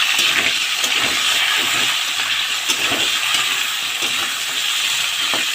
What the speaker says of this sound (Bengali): এবার উচ্ছেটা দিয়েও আমি বেশ কিছুক্ষণ ভেজে নেব